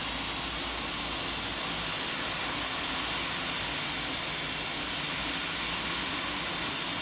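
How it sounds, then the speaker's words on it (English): A jet engine on an Emirates airliner roars steadily during takeoff in a Roblox flight simulator, a loud, constant broadband rush that holds unchanged throughout, with no talking. "Emirates 451 cleared to take off from runway 16"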